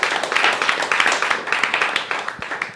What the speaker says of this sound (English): Clap for having great friends.